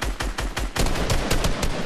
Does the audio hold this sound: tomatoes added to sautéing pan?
no